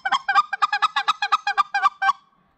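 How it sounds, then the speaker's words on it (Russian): A hand-held turkey hunting call produces a fast run of about a dozen sharp, nasal clucks in steady rhythm, close and clear, ending abruptly with no speech. "То есть четко контролировать звучание манка."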